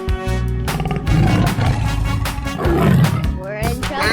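A tiger in a 3D animal sliding game lets out a loud, growling roar, with stacked roaring bursts over a couple of seconds and a voice speaking over them.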